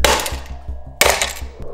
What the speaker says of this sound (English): Hammer it, I guess.